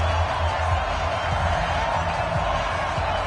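Stadium crowd noise in an EA Sports NFL video game on PS4, Seattle Seahawks against Oakland Raiders, heard as a steady, loud broadband roar with low rumbling underneath and no clear voices.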